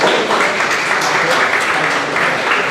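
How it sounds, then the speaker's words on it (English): Audience applauding at a talk, a dense steady wash of clapping that runs the whole short stretch, fairly loud and close, with no voices over it. "That's why they're applauding."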